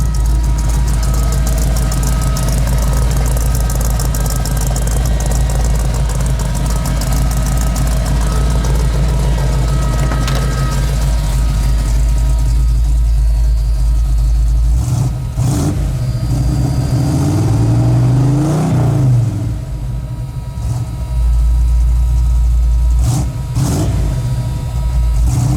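A 1985 Ford F150 pickup with custom side pipe exhaust runs steadily in a deep, loud idle, with a couple of revs pushing up around the middle and again near the end.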